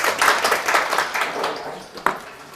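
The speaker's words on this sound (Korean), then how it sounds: "박수 한번 쳐주시고." Brief rounds of audience clapping in a Korean civil law lecture for real estate agent exam students: a burst of many hands that tapers off, followed by one sharp clap near the end.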